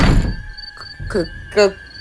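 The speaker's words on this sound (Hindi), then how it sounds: "अचानक दरवाजा अपने आप एक आवाज के साथ खुल जाता है।" A door in an old village house swinging open by itself as a horror-story effect, a dull thunk followed by short creaking groans at moderate loudness.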